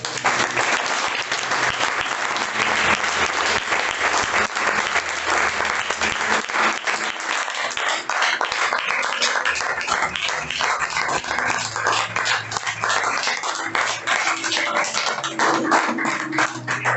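A church congregation claps in praise during a sermon. The applause is loud and sustained, filling the whole clip with steady, dense clapping and a low hum beneath it.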